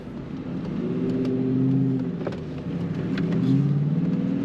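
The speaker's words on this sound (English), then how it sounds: "this car is just throaty and growly and vicious" A 1999 Ford Mustang 35th Anniversary growls as it is driven, its engine note rising and falling through two throaty revving pulls, fairly close and alone without talk.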